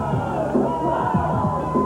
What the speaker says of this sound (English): the crowd seems to be happier to see him than we are